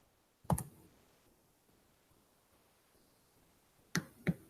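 Dice rolled on a table during a tabletop roleplaying game, one short clattering burst early, then quiet, then two more quick clicking rattles near the end, close and fairly faint.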